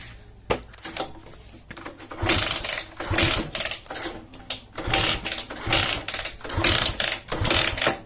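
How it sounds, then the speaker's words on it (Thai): A vehicle that will not start being cranked repeatedly, with a rhythmic mechanical whirring and clattering in several bursts, loud and close with no talk. "มาดูอาการรถสตาร์ทไม่ติดนะครับ"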